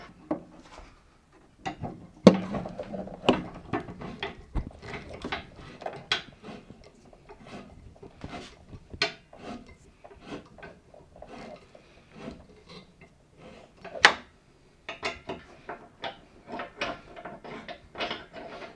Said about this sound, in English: these bolts go in like this, and then they screw into the bar